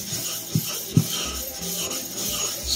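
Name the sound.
diamond plate rubbed on 400 grit water stone to raise slurry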